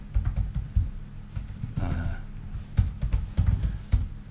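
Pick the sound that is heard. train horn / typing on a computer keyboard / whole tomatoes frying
typing on a computer keyboard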